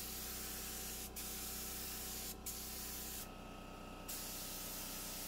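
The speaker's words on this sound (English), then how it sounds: "Using the spray gun makes it a lot faster" A spray gun lays primer onto a mid-century modern wooden dresser, giving a steady continuous hiss with brief bursts and one longer stretch of stronger spray near the end. It sounds close and runs alone, with no talking.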